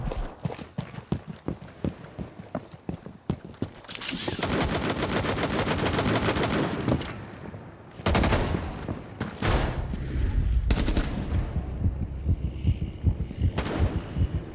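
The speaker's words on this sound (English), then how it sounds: "Yo, JT, why are we shooting at that window?" Gunfire in a video game aimed at a window: rapid rattling shots at first, then dense sustained automatic bursts with brief pauses, loud and close, ending in scattered single shots, with no talking.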